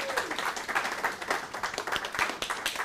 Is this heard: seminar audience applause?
yes